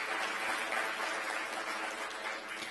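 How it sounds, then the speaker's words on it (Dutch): A literary awards audience gives Remco steady, even applause, a soft, distant wash of many hands clapping that continues throughout. "Graag applaus voor Remco."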